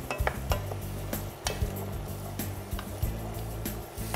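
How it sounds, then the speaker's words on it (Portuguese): Carrot and onion fry in a pot for feijoada, a soft steady sizzle under repeated clinks and scrapes of a utensil stirring against the pot, close and fairly quiet. "Quando a cenoura então dourar bem com a cebola"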